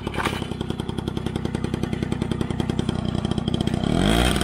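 A small scooter moped's engine runs steadily nearby with a buzzing, pulsing idle, rising a little in intensity toward the end.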